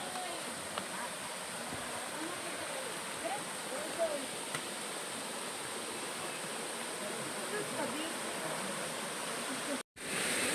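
The waterfall at Barangay Maticdom, Tandag City, Surigao del Sur, gives a constant rushing roar, steady and fairly soft, with faint voices now and then and a brief dropout near the end.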